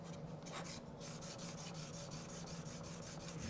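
Steel edge being honed on a fine 1200 grit diamond stone, a steady close rasping rub in repeated strokes that carries on alone throughout with no talk.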